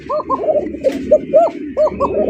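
Pigeons offered for sale in pairs with eggs and chicks coo loudly and close by, a run of repeated throaty warbling calls overlapping one another.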